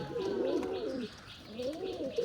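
A prized, costly pigeon coos close up in two low, rolling phrases separated by a short pause, clear and alone with no talking.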